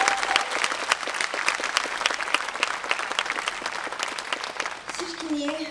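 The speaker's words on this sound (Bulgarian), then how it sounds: "Аплодисменти за него." A crowd applauds steadily at a Michael Jackson tribute event in Plovdiv, dense rapid clapping filling the space, before a voice briefly comes in near the end.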